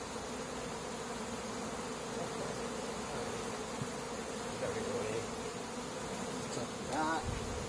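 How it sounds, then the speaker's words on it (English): Honeybees swarm around an opened beehive, a dense, steady buzz filling the air close by, with individual bees droning past now and then. "we need to get all these bees somewhere"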